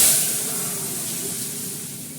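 Dal poured into hot oil tempered with panch phoron, a steady close hiss of sizzling that slowly eases over a couple of seconds, with no talk.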